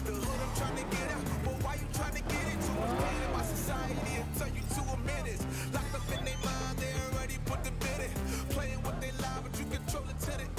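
A car driving in Cyberpunk 2077, with a steady engine drone and road noise throughout under game music and occasional voice, moderately loud and continuous.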